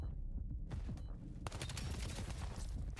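Rapid gunfire from a Call of Duty esports match, dense overlapping bursts of shots running continuously and loudly through the whole stretch, with a brief lull near the start before the firing intensifies.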